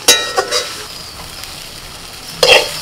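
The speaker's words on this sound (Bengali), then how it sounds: "নাড়াচাড়া করতে করতে খারকোল পাতাটাকে একদম ভাজা ভাজা করে নিয়েছি।" Kharkol leaves frying dry in a pan while being stirred, giving a soft hiss with a few scraping strokes at the start and a louder stir near the end, with no one talking.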